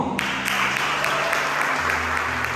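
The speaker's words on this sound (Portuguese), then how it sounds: "Aplauda o Senhor." Church congregation applauding in a steady, moderately loud wash of clapping, with a low sustained musical tone underneath.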